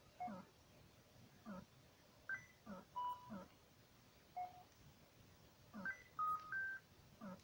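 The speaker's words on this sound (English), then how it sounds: "That was a loud beep." Short electronic beeps and blips from the Game Boy game Alleyway ring out faintly and sporadically over a quiet background hiss, several brief tones scattered across the stretch.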